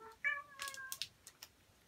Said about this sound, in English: my cat's coming in for the